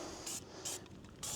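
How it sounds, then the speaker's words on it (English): Short bursts of cleaner sprayed over a KTM 890 SMT motorcycle, three distinct hissing puffs with brief pauses between them, close and crisp against a quiet background. "I am going to spray more or less all components, so engine, all the plastics."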